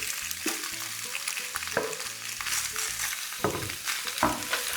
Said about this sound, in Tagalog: Igisa pa rin natin kahit na naprito na kanina.